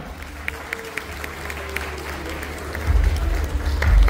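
Audience at a Sambhaji Jayanti stage programme gives scattered, spaced claps at first, then swells into louder, sustained applause over the final second or so.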